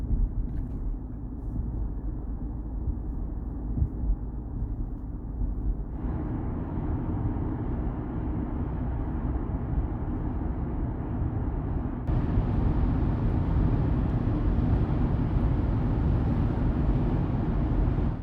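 Cabin noise inside a 2019 Audi Q7 45 TDI on summer tyres at autobahn speed, non-acoustic windows: a steady low road and wind roar that grows louder and brighter in two distinct steps as speed rises, with no talking.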